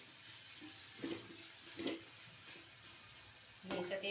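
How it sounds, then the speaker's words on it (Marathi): A bean and potato vegetable dish being stirred and sautéed in a pan after uncovering, with soft scraping strokes and a gentle sizzle, quiet and close, with no talking. "हे झाकण काढून पुन्हा एकदा हलवून परतून घ्यायची भाजी"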